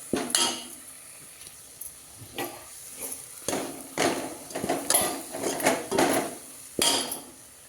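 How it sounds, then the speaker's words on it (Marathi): Grated coconut frying in a pan in a home kitchen, with clinks and scrapes of a utensil stirring against the metal in irregular bursts, moderately close and without talk. "खोबरं कसं तळ असतंय"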